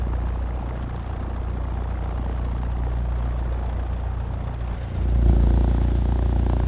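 Aircraft engine droning steadily in the Infinite Flight game while taxiing at Duke City Airport, a continuous low hum that swells slightly louder near the end.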